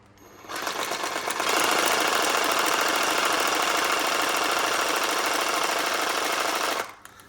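A reciprocating saw running at full speed shakes a spray paint can, producing a loud, steady rattling buzz that starts abruptly and holds for about six seconds before cutting off, with no talking.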